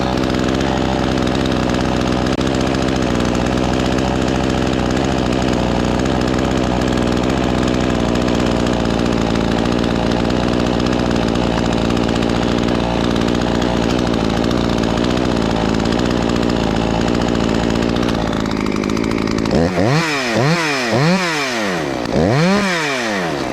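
A ported Husqvarna 543xp chainsaw being broken in runs steadily at high revs, loud and close for about twenty seconds, then blips and wavers up and down in pitch near the end.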